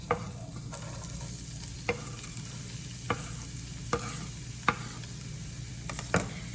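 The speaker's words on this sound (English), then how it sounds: "Once our pan is heated up, we are going to put in only our onions right now." Onions sizzle steadily in hot olive oil in a heated pan, a constant close frying hiss with a few faint clicks and taps over it.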